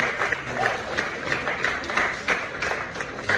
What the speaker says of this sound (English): Ladies and gentlemen, a round of applause once again.